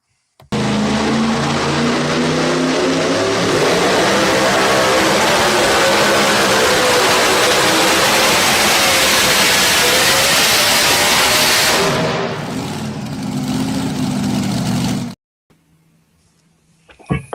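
Two-wheel drive pulling truck engine revving hard, a loud sustained roar lasting about fifteen seconds that eases slightly before cutting off abruptly into near silence.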